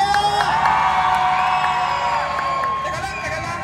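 A live crowd cheers, whoops and shouts for a singer at a show at the Kabayan Night Market in Dubai. The roar is loud and sustained, with overlapping voices throughout.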